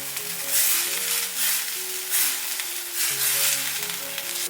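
A tofu sauce of water, light soy sauce, oyster sauce and a little sugar bubbles and sizzles steadily in a pan as it comes to a boil, close and continuous with soft surging pulses.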